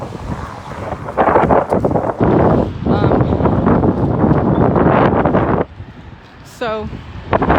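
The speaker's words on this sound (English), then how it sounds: "I'll go down where there's less wind" Strong wind buffets the microphone outdoors in loud, rumbling gusts that dip near the end, and a person talks under the noise.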